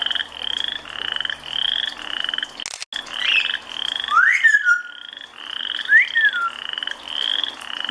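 Frogs croak in a rapid repeating chorus of pulsed calls, loud and close, broken by a short thump and a couple of rising whistled chirps.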